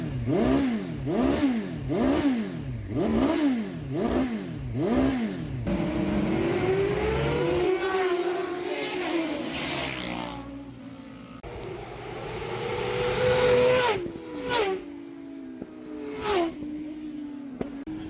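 A 1997 Suzuki GSX-R750 SRAD motorcycle engine, just fitted with a Sigma slipper clutch, revs up several times in quick blips, then sweeps through longer rises and falls before settling toward idle with a few sharper throttle blips. It is loud and close, with no voice.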